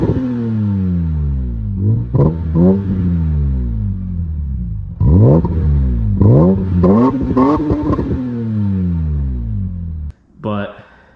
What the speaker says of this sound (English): And then I have the version 2 Rogue Engineering rasp pipes, which this car sounds really good.